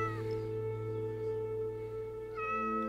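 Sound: cat meowing in Minecraft, video game

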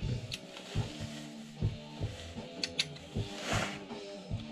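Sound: socket wrench ratcheting on a bolt

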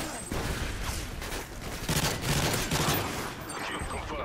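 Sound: gunfire from teammates in video game Call of Duty MW3

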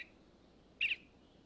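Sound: male eastern bluebird call

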